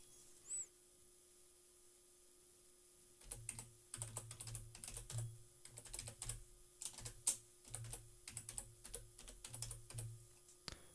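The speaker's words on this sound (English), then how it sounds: "you're going to type in your admin email" Fingers type an admin email on a computer keyboard in quick, irregular bursts of close, crisp key clicks over a faint steady hum, after a brief quiet pause, with no talking.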